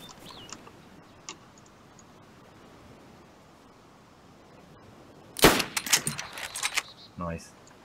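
A gunshot rings out in the video game DayZ, fired at a player standing on the roof of a police station, a sharp loud crack followed by several quicker bursts and a short trailing noise, after a long quiet stretch.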